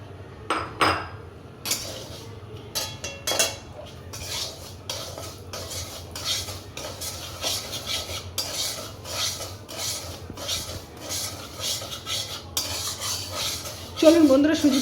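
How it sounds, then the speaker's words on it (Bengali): Semolina being fried in a wok on a gas flame gets stirred with a metal spoon, producing repeated close scraping and clinking strokes in an uneven rhythm, joined at the end by a faint sizzle, with no talking. "এবার আমরা সুজিটাকে একটু হালকা করে ভেজে নেব"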